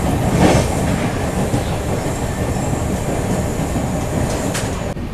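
Rolling rumble of the New Delhi–Howrah Rajdhani Express (12302) running on the tracks, heard from inside a 2AC coach; a steady loud wheel-and-rail roar fills the whole stretch with faint clatter and no voices.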